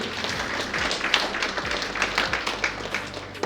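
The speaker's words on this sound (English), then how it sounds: "let's give a round of applause for everyone in the care business for caring" Audience applause at a care-industry training talk, a steady patter of many hands at moderate distance with a few louder taps.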